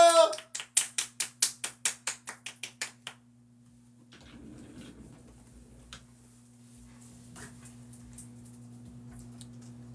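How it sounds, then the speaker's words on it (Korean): A single person applauds at an improvised solo New Year awards ceremony: a quick, even burst of about a dozen sharp claps over three seconds, then the clapping stops and only a quiet room hum and faint movement remain. "박수로 한번 모시겠습니다"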